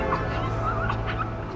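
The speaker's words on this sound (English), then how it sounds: "we need to sort your dogs out" Two terriers bark and yip in short, sharp bursts mixed with high whimpers. The sound is close and fairly loud, with a faint murmur of background activity.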